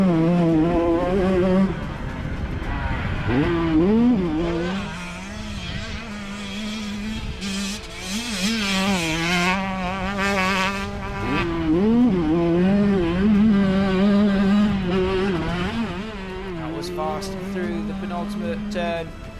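A 125cc motocross bike races a lap, its engine revving and shifting pitch continuously and loudly throughout, with a commentator talking over it.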